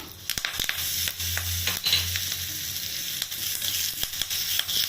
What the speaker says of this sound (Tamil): நான் தாளிப்பு கரண்டி போட்டிருக்கேங்க கடுகு பருப்பு போட்டுக்கலாம்